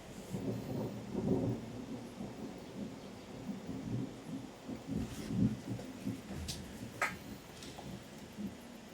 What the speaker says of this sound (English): it's thundering outside, and there's no rain, which suggests that it's very close